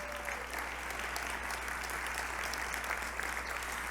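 Gala audience at a Books for Africa anniversary event gives steady, sustained applause for an ambassador, a continuous wash of clapping over a low hum in an indoor hall.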